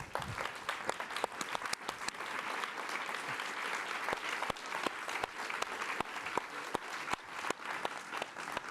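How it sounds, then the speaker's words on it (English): An award-ceremony audience gives a big round of applause, steady dense clapping from a crowd throughout with sharp individual claps standing out. "So a big round of applause, ladies and gentlemen."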